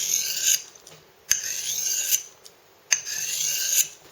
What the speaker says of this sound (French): Alors pour l'affûtage, c'est pas compliqué. On place ça comme ça. Et voilà, on avance.